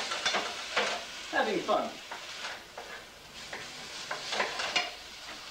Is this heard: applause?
no